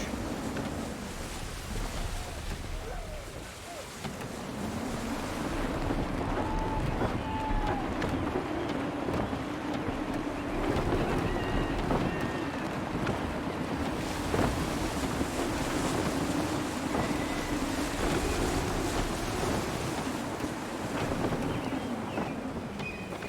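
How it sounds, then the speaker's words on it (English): Gusty wind roars across a sailing ship at sea in Assassin's Creed 3, with waves washing around the hull in a constant, loud rush that swells and eases over time. "Gusty winds can be difficult to manage."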